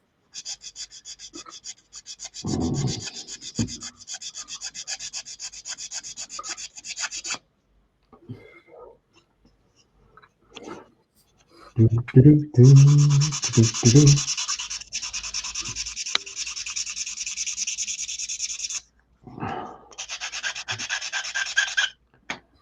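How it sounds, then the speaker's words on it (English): Bursts of dry rasping from hand sanding a small plastic model kit part, steady back-and-forth strokes in several separate passes with short pauses between. "I'm sanding."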